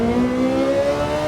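A Ferrari in Gran Turismo 7 accelerates gently in gear, its steady engine tone rising slowly and evenly, loud and close with no talk over it.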